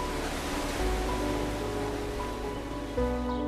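Ocean surf breaking around jagged sea stacks and sandstone sea caves, a steady broadband roar of waves under a faint musical tone, with a swell in intensity near the end.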